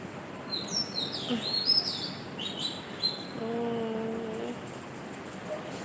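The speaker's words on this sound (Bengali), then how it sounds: "ঢাকা শহরেও পাখির ডাক শোনা যায়" A busy stretch of high bird chirps and trills in early morning Dhaka, several calls overlapping in the first half, then a low steady hum and quieter background with an occasional chirp.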